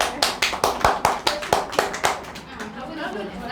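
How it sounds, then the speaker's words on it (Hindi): Students in a coaching class for the Bihar police exam give a short burst of rhythmic, close clapping. The claps fade into low classroom chatter. "वाह, ताली बजाइए इसके लिए"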